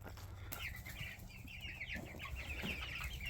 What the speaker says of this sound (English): I'll show you guys some of our new chicks.